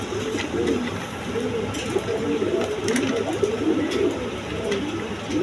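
German beauty pigeons at a farm coo in repeated low, rolling phrases close by, overlapping one another against a steady background hum.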